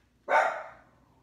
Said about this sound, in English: What are you barking for?